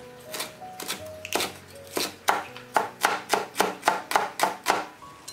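A kitchen knife chops a washed bell pepper into small dice on a cutting board, a steady run of crisp, close taps that speed up into an even rhythm.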